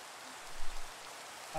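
Rain falls in the video game Minecraft as a quiet, even hiss with a few soft bumps. A faint voice sits under it.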